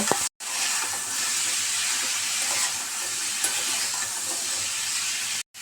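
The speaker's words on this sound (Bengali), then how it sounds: "সব কিছু দিয়ে ভালো করে নাড়াচাড়া করে নেব।" Pumpkin with turmeric, cumin and coriander powder being stirred in a hot pan, giving a loud, steady sizzle and hiss close by, broken by two brief silent gaps.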